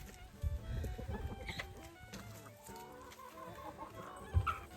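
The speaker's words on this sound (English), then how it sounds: "Now those are some happy chickens." Several chickens cluck softly and intermittently at a distance, with scattered faint bird calls and light background noise.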